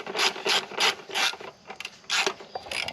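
Ratcheting wrench working on a 2024 Kawasaki ZX6R 636 exhaust at its right-side bracket, giving close, repeated bursts of clicking strokes with short pauses between them.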